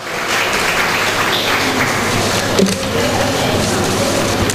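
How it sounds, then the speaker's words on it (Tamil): Applause from an audience at a Madurai stock and commodity market traders' association seminar, a steady dense wash of clapping that fills the room continuously from start to finish. "அவங்களுக்கும் ஒரு கைத்தட்டல் கொடுத்து அவங்கள மகிழ்விச்சிடலாம்."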